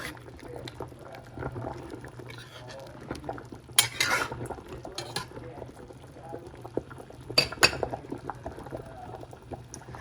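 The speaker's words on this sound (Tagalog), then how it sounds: "Ayan muna natin siyang kumulo ng kumulo." Sinigang na pampano, a Filipino sour soup with pompano fish, simmers in a pot with a soft, close bubbling, broken by a few louder clinks and scrapes of cookware around the fourth and eighth seconds.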